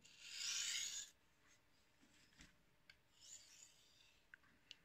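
Knife blade sharpened on a Naniwa 1000 grit whetstone, heard as one close, fairly faint gritty rasping stroke followed by quieter scrapes and small ticks.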